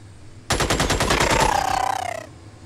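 A loud sustained burst of rapid automatic gunfire from the Xenonauts video game, a tight rattling stream of shots lasting nearly two seconds before cutting off abruptly.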